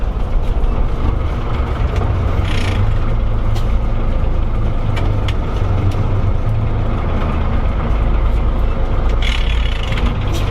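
A 1977 Peterbilt 359 truck converted to a motorhome drives and turns a corner, its heavy diesel engine droning steadily and loud up close, with rattles and a brief hiss of air along the way.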